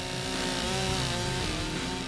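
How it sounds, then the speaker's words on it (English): A chainsaw roars at full throttle, loud and close, with a dense, continuous mechanical buzz and no pauses, as its chain strikes a bullet. "we're talking a chainsaw hitting a bullet"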